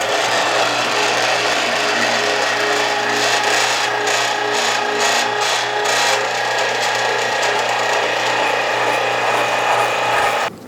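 An electric meat grinder pushes meat through a 4.5 mm die with a loud, continuous mechanical whir and grinding, steady and close throughout before cutting off abruptly at the end.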